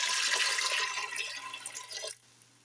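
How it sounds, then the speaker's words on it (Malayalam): Water poured into a pressure cooker pot for a dal and mango curry, a splashing, gurgling pour that gradually eases and stops abruptly near the end, close and alone. "ഇനി ഇത് വേവുന്നതിന് ആവശ്യമായിട്ടുള്ള വെള്ളം ഒഴിച്ച് കൊടുക്കാം."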